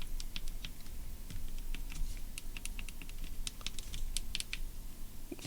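Close, crisp clicks from clicky keyboard switches pressed one after another at an uneven pace over a steady background hiss, with no talking.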